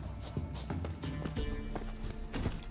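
A horse in The Witcher 3 gallops with a quick, close clip-clop of hooves, and a short whinny breaks through the hoofbeats.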